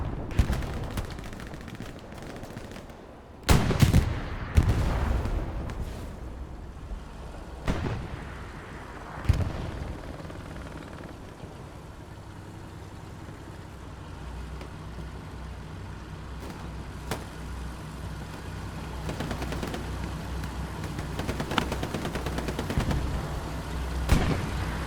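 Booming artillery fire in Hell Let Loose thunders in scattered, heavy blasts, some close and loud, others distant rumbles, over a steady battlefield hum with no talk.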